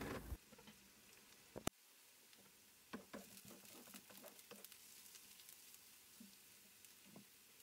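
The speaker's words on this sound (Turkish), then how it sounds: "Soğanlarımı kokusu çıkana kadar kavurma işlemine devam ediyorum." Onions sautéing in a frying pan, a faint, steady sizzle broken by scattered crackles and pops as they are stirred, with a few sharp clicks from a utensil.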